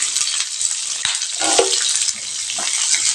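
Cashews, ginger, green chillies, curry leaves and onion are sautéed in oil for red poha upma, with a close crackling fry broken by a few utensil scrapes and clinks as the pan is stirred.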